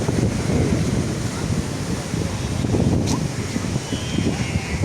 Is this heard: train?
no